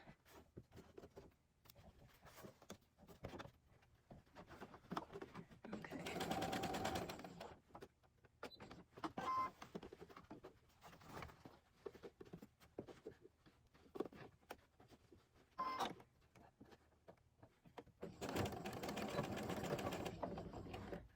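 A sewing machine stitches and backstitches a seam while adding a zipper and pocket to a garment, running in short start-stop bursts with two longer, louder sustained runs, close by and with no talking.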